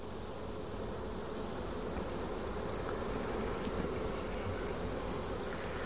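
Honey bees hum in a steady, dense drone from an opened hive in Calumet County, a continuous close buzz without pauses and no voices over it.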